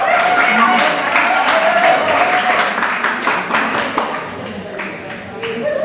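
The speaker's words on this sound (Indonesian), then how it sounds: "Beri tepuk tangan." Audience applause at a recitation event, a steady patter of clapping for about six seconds, fairly close and slowly easing off, with voices underneath.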